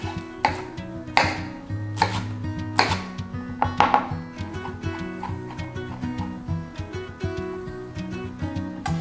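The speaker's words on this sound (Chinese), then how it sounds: "豆豉我们把它切成末状" Knife mincing fermented black beans on a cutting board for a vegan stir-fried rice cake dish: a steady run of close, sharp chopping taps, some louder strikes, over continuous background music.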